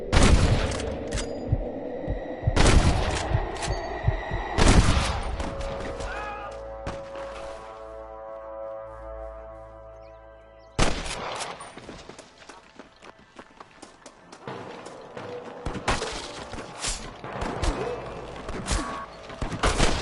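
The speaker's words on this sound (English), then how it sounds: "I can hear more gunshots." Bursts of loud gunfire in the video game Red Dead Redemption crack and boom in rapid clusters, with a lull of ringing tones in the middle before the shooting resumes.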